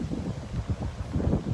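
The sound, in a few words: wind outdoors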